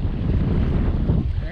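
Strong wind gusting at the seashore during fishing, a loud, constant rush of buffeting noise on the microphone that masks any surf beneath it.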